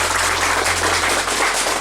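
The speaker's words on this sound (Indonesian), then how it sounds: "Tepuk tangan untuk rakyat Bapak." An audience applauding at a local community event in Kupang about salt production, a steady wash of clapping over a low hum, continuous and moderately loud.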